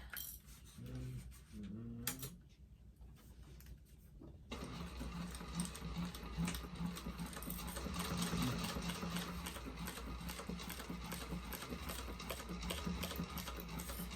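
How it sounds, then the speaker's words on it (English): A sewing machine runs steadily for about ten seconds, stitching a 3/8 inch seam on a convertible backpack, after a few brief pauses and starts at the beginning; close and continuous, with no talking. "we're going to sew around that using 1/4 of an inch seam allowance"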